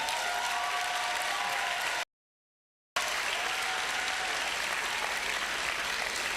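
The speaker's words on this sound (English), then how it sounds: "the thunderous applause is for, whether it's for the inaugural lecturer or for Professor Agoreyo, the Dean" A large audience gives thunderous applause at a university inaugural lecture, a loud dense roar of clapping that cuts out abruptly for about a second, then resumes just as strongly.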